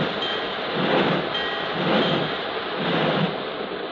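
A low, rumbling train backs slowly out of a train shed, coupled to a wooden caboose, with a steady roar and gentle surging swells, heavy and close, no voices.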